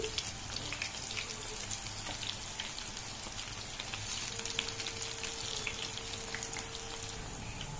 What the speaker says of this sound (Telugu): వేగుతుందండి, ఇలా వేయించుకోవాలి.